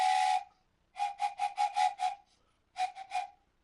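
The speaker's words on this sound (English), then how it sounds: "hear the train coming" A train whistle sounds in a series of short blasts: one opening toot, then a rapid run of five, then three more after a pause. The blasts are fairly faint and distant, with no one talking.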